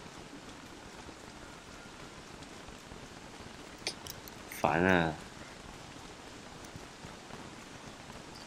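Steady rainfall in the survival game Don't Starve Together, a soft continuous patter of drops at low level, with a short exclaimed voice cutting in midway.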